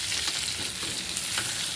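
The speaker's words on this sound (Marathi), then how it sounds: "तेलामध्ये ही वांगी परतून घ्यायची, मऊसर होईपर्यंत आपल्याला वांगी तेलात परतायची" Brinjal pieces fry in hot oil in a pan, a dense, even sizzle heard close and steady throughout, with faint stirring underneath.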